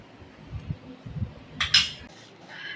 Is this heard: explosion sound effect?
no